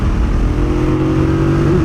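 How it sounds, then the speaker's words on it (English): A 2025 Yamaha MT-07 motorcycle's 689cc CP2 parallel-twin engine runs loud and close, a steady throaty rumble with a slight rising rev and no talk. "What a great engine."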